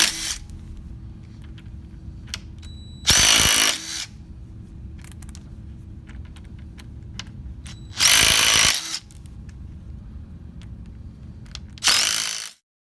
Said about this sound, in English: Starting outside in, use an impact drill to shear off bolts.